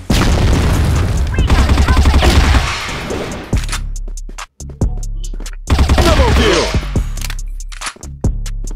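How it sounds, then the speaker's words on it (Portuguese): A grenade goes off during a CrossFire match amid a dense barrage of loud gunfire and booming blasts, the firing breaking into rapid bursts, with a player's voice talking over the action. "Granada precisa!"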